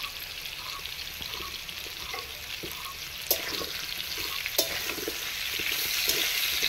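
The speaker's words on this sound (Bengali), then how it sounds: "হালকা করে কুমড়োগুলো ভেজে নেব।" Pumpkin pieces fry in a pan for a vegetarian pumpkin chhakka, giving a steady close sizzle with occasional scraping stirs and two sharp clinks, intensity rising slightly toward the end, no one talking.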